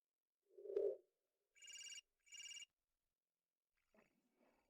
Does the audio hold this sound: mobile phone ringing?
yes